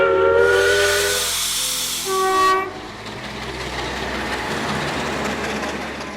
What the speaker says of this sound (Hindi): भारतीय रेल